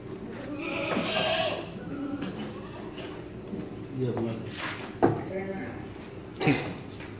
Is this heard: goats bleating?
yes